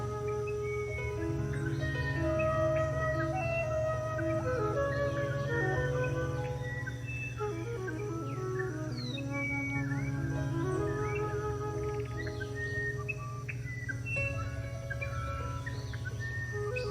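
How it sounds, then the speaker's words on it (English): Many birds twitter and chirp continuously outdoors, overlapping calls at moderate distance over a steady low hum, with no one speaking. "We're just hearing the sound of the birds twittering"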